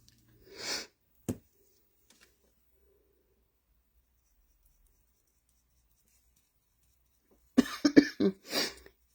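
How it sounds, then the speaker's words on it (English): A few sharp coughs near the start, then a long silence, followed by a cluster of several more coughs and sniffs at the end. "Gosh, I'm so sorry I keep coughing."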